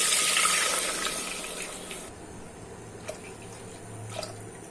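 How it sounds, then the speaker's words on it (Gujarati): Milk pours steadily into a pan of hot ghee for mango kheer, a loud continuous liquid rush that fades after about two seconds into a quieter simmer with a few faint clinks. "હવે તેમાં આપણે બે બાઉલ પાણી દૂધ નાખી દેશું"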